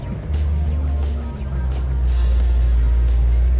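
A 1969 AMC SC Rambler muscle car engine running, a loud deep steady idle rumble with low throbbing notes, close by and with no other sound over it.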